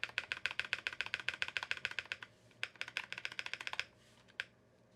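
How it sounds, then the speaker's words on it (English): Quick, steady typing clatters on a Pixelspace Capsule 65 mechanical keyboard with an FR4 plate, Durock POM switches and a rattly spacebar, crisp close keystrokes in fast bursts that pause briefly before a final few taps. "Spacebar's a little rattly though"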